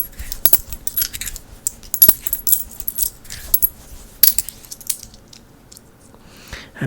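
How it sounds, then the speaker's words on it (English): Metal keys jingle and clink in soft, irregular bursts, close up and crisp, in a quiet ASMR setting with no voices. "And then he hands you the keys."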